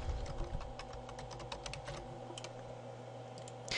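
Rapid clicking keystrokes on a computer keyboard, a quick run of typing at close range that slows and thins out toward the end, with no talking.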